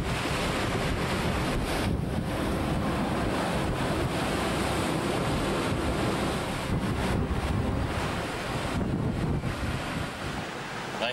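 Heavy storm waves and strong wind roar around a small sailboat at sea during a solo nonstop circumnavigation, a loud continuous rush of surf with wind buffeting the microphone.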